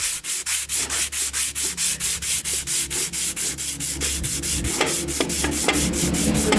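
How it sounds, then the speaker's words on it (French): Steady back-and-forth strokes of hand sanding flat on a BMW E28 part with a sanding block, loud and close, a regular rhythmic rasp of about four strokes per second with no talking. "Puis tu viens tout simplement, délicatement, poncer"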